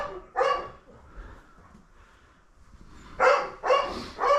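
A dog in a crate barks close by: one bark, a quiet pause with faint sounds, then two loud barks in quick succession.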